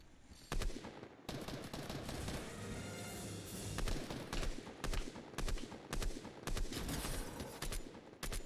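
Gunfire in Fortnite, repeated sharp shots in irregular bursts, some overlapping into rapid volleys, fairly loud against a busy background of game noise.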